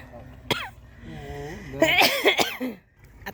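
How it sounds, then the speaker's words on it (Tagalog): A few sharp, harsh coughs burst out among people talking in mixed languages, close to the recording, outdoors at a bazaar beside rice fields in Pakistan where smoke hangs in the air. "Atake ubo."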